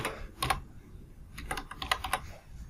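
Keys on a computer keyboard clatter in short bursts as a table name is typed into an Oracle 10g database, with a quiet pause between clusters of keystrokes and no talking.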